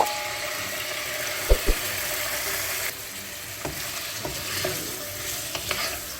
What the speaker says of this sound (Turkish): Etimizi şöyle tenceremizde 1-2 dakika soteliyoruz.